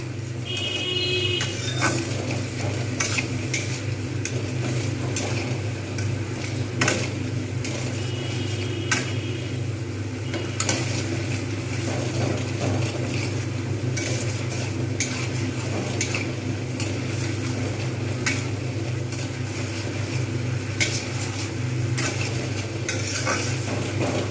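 Egg tadka dal stir-fried in a pan, a constant low sizzle with repeated scraping and tapping of the spatula against the metal, close and steady.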